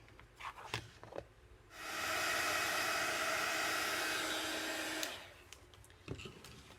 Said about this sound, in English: So all that's left now is just to heat that up and melt that embossing powder.